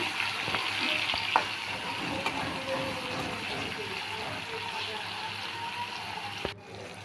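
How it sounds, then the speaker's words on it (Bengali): Tomatoes frying in a pan for egg curry give a steady low sizzle, with occasional spatula scrapes and taps as they are stirred, ending in a sharp clunk. "টমেটো অ্যাড করার পর কিছুক্ষণ নাড়াচাড়া করব"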